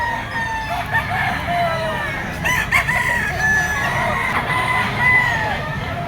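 A blue-legged gamecock of Black Bonanza bloodline crows repeatedly nearby, its calls rising and falling amid other fowl and background farm noise.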